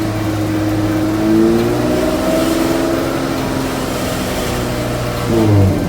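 A Dodge Charger V6 engine is revved to around 2000–3000 RPM, a loud, close, rising and falling drone that swells twice and settles between, with no talk.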